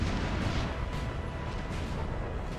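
Napoleonic-era artillery fire in a Napoleon: Total War battle rumbles as a dense, distant roll of overlapping booms that holds steady at a moderate level.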